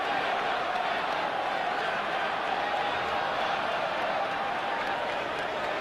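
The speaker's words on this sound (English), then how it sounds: "Big crowd urging some reaction from England." A big rugby crowd in a stadium during an England versus Samoa World Cup match, a steady loud wash of voices and roaring that holds constant throughout without breaks.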